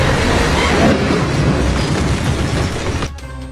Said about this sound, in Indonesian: tangki obor itu meledak.